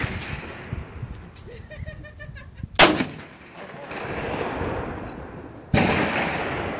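Shotgun shots at clay pigeons ring out outdoors, with two sharp, loud blasts about three seconds apart, each trailing off into echo, over a quiet background.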